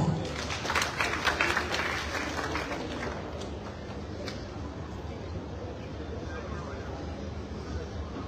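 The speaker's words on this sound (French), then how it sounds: "On applaudit M. Bilal." An audience applauds speaker Bilal at a Guinean development project presentation, a burst of clapping in the first few seconds that fades into a lingering room murmur.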